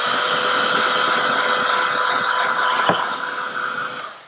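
Heat gun blowing to warm yellow tint film over a BMW X1 xDrive35i fog light, a steady loud whirring hiss with a high whine that holds, then fades as it shuts off.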